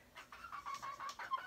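Chickens perched on a fence on a farm cluck in short, close, repeated bursts, with no talking over them.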